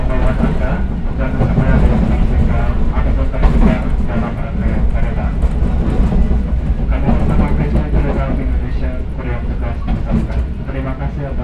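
Argo Muria passenger train running between Cirebon and Kertasemaya stations, a steady loud rumble of wheels and carriage noise throughout, with voices audible underneath.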